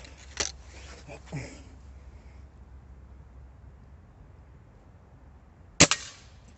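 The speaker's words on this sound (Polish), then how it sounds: "Można można strzelać, nawet oddam jakiś strzał." Two sharp gunshots at a shooting range, one near the start and one much later, with brief mumbled talk in Polish and faint background hum between them.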